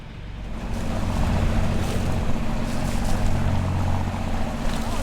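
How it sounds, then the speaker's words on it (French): A motorboat travels on the Kourou river, its motors running in a steady, loud drone that blends with rushing water and wind noise throughout. "Là on vient de remettre les moteurs en route et on part pour Kourou."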